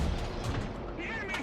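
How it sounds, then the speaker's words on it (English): Artillery barrage in War Thunder raining down near a Tiger II tank, a dense run of low rumbling blasts and booms with continuous battlefield noise throughout. "He managed to call artillery in on me."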